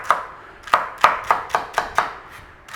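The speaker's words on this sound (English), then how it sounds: "All this stuff wants to be cubed up and back in that bowl." A knife cubes carrots and celery on a cutting board, giving eight sharp, evenly spaced chops close up, with nobody talking.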